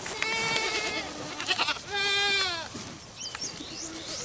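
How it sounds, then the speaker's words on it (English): Several goats bleat in quick, wavering calls close by on a farm, a few distinct cries with short pauses and some faint bird-like chirps between them. "The goats will come down here and think about getting in it"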